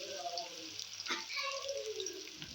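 Onions sizzling in hot oil in a kadai, a soft steady frying hiss with faint stirring clatter, under a woman's speech.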